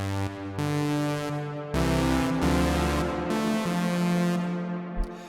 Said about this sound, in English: As you can hear, it's a basic saw wave.